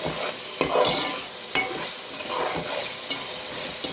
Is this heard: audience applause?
no